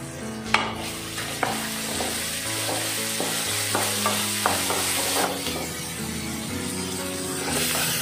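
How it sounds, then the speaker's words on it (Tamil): Chopped garlic sizzles and fries steadily over a low flame in a pan for a roadside-style garlic dosa, with a spatula scraping and stirring it at intervals, close and continuous, with no talk. "லோ ஃப்ளேம்லேயே வச்சு நல்லா வதக்கிக்கோங்க"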